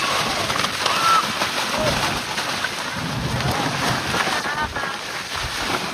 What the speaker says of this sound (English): It's so windy, guys. It's so windy.